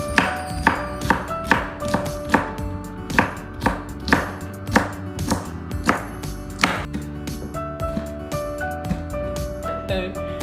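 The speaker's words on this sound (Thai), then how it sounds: "เราจะหั่นแบบนี้ไปทุกอันเลยนะคะหั่นไปเรื่อยๆค่ะ" Rhythmic knife chops through chili on a cutting board, roughly two per second, crisp and close, with soft music underneath.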